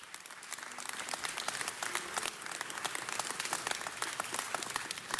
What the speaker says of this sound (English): Let's give Mr. Buscaino a round of applause.